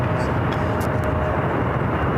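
A fixed-wing airliner rolls for takeoff on runway 1 left at SFO, a loud steady broadband engine roar heard close and constant throughout.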